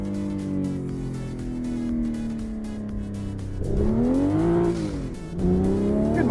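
A car engine in a virtual driving game drones steadily, then revs up with rising and falling pitch as it accelerates, loud and continuous with no talk.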